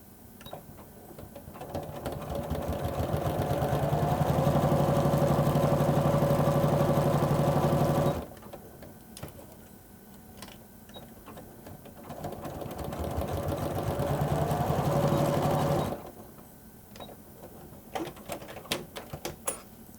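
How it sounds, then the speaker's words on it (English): A sewing machine zigzag-stitches around the edge of a Lutradur collage bracelet, running in two steady mechanical bursts of about eight seconds each, with a pause and light handling clicks between and after them; no one speaks. "I set up my sewing machine for zigzag stitching and then do sew around the perimeter of the bracelet."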